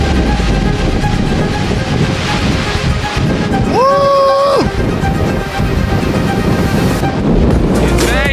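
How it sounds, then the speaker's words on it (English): Strong wind blasts across an outdoor hiking trail in Torres del Paine, a loud constant roar buffeting the microphone for the whole stretch, with a brief tonal whine partway through. "It's pretty windy, so we gotta get going."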